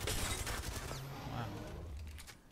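Gunfire bursts in the battle royale game Apex Legends, a quick volley of shots near the start that thins out into scattered, fainter fire, with a voice heard over it.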